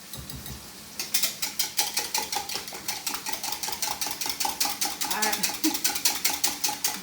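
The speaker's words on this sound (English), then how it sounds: "I'm going to beat them slightly before I put them in" A whisk or fork beats eggs for pancake batter in a bowl, clicking rapidly and steadily against the sides in an even, fast rhythm for several seconds after a brief quiet start.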